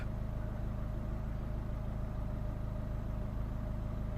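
A Volvo S40 with a 1.6 diesel engine idles steadily with a faulty, dropping idle, a close, continuous low rumble with an even mechanical beat and no voices.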